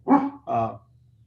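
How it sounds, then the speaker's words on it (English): A dog barks twice in quick succession, loud and close, excited by tree contractors arriving at the house, with a faint low hum beneath and nothing after. "the dog gets very excited about them"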